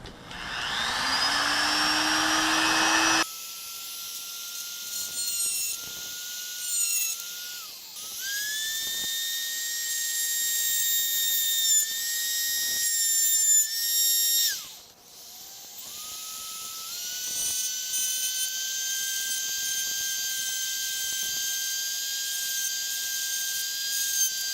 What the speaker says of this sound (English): Let's go ahead and get the Dremel in.